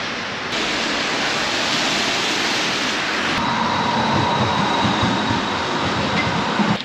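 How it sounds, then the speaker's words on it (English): A water wheel turns in Augsburg amid loud, steady rushing water that surges close by as a broad continuous roar with no voices. "there you have the water wheel"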